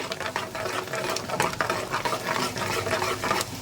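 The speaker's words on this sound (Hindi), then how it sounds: "भून लेना है कि अच्छे से क्रैकल हो जाए, जलाना नहीं है।" Mustard and fenugreek seeds, with yellow mustard and garlic, popping in hot tempering oil for mutton pickle, a dense, close crackle with rapid irregular snaps and no voices.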